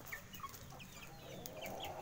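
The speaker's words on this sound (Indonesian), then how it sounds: "kembali lagi kita di sini dalam peternakan ayam pelung" Pelung chickens on a chicken farm, with short clucks and chirps scattered over a steady background hum, moderately distant, no talking.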